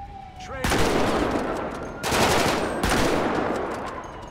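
Loud gunfire in GTA 5 during a police military patrol, three sharp blasts, each ringing out and decaying over a second or more, with a faint tone before the first.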